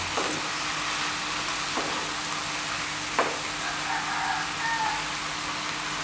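Steady, crackling sizzle of minced meat browning in a hot frying pan, with a few soft scraping stirs breaking through the constant hiss.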